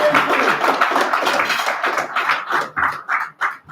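An audience at a live stage event claps, a loud, dense patter that thins into a few separate, scattered claps near the end.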